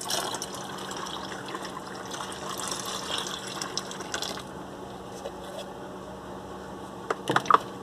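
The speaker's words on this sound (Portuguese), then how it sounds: "Então colocamos aqui 1 litro de água." One liter of water is poured into a detergent mix, a close, continuous trickling and splashing that fades midway, followed by a few sharp clinks near the end.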